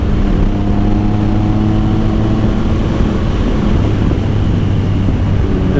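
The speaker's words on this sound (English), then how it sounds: "This bike sounds so good." An Aprilia RSV4 sport motorcycle engine running, a loud, steady, deep droning rumble held close and constant throughout, with no talking.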